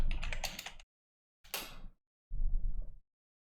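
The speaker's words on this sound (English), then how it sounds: "let me just switch my keyboard real quick." Quick bursts of typing on a computer keyboard come in three separate clusters broken by silent gaps, the keystrokes close and crisp with no voices.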